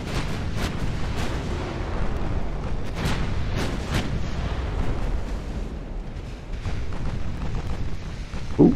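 13-inch naval guns fire in Ultimate Admiral Dreadnoughts amid a steady rumble of battle: several heavy booms land at irregular intervals over a continuous low roar, loud and without voices.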